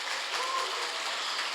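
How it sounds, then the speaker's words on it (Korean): A church congregation at a revival meeting claps continuously, a dense, even wash of applause that holds steady for the whole moment with no speech over it. "다시 한번 박수 한번 쳐봐요."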